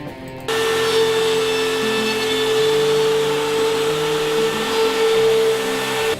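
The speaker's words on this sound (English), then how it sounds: "who had a router, so that we could smooth out the edges a little bit" A router smoothing the edges of a wooden game board, a loud steady whine that starts abruptly and holds a constant pitch with slight variations as it cuts, close and alone.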